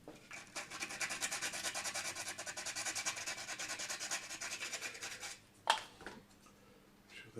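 A nail file rasps against a 3D printed model airplane part, a Beechcraft Staggerwing, in quick, soft, steady back-and-forth strokes for about five seconds, then stops with a light knock.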